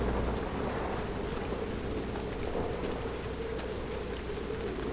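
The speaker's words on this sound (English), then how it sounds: "It must be cold walking in the rain like this at night." Steady rain falls at night in the Dragon Age Inquisition video game, a dense, even hiss of drops with a few sharper patters, continuous and fairly close with no voices.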